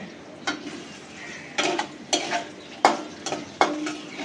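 Tomatoes tossed into a pan of frying potato curry, followed by a series of scraping spoon strokes against the pan over a soft, steady sizzle, close up with no talk.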